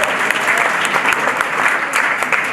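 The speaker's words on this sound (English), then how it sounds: "let's give them a round of applause for that meal" Audience at the Pawnee Nation Princess Dance coronation claps for a meal, a steady, dense wash of hand claps filling the room throughout, loud and even with no voices standing out.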